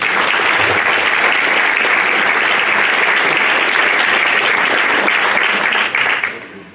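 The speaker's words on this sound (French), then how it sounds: "Et vous pouvez l'applaudir." Sustained, dense applause from an audience at a New Year's wishes ceremony in St Dalmas and St Etienne, loud and steady for about six seconds before fading out at the end.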